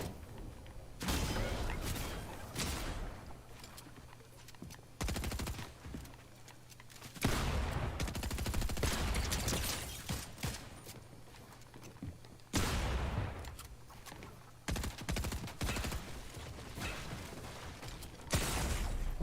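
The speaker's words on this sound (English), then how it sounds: "Oh, someone's shooting me." Repeated bursts of video game gunfire, some loud and others lighter, come in separate volleys across the span with brief gaps between them, and no talk is heard over them.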